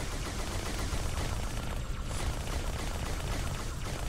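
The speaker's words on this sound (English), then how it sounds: "I'm just shooting the cannon." Dense, continuous gunfire from a cannon in the video game Halo 2 during a co-op campaign, a loud unbroken barrage of blasts with no speech.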